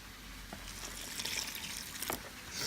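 Water pours into masa being mixed for pupusas de chicharrón con queso, a faint, light trickle and splash that comes in brief spurts over quiet kitchen room noise.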